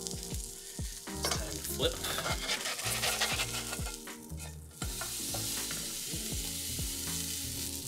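Havarti grilled cheese frying in a pan, a steady loud sizzle with repeated stirring and scraping clatter throughout; a person speaks briefly near the end.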